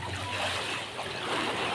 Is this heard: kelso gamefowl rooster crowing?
no